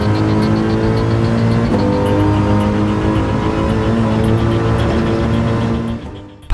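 A Mercedes SLS AMG sports car drones loudly and steadily with a strong engine tone that climbs briefly, then fades slightly toward the end.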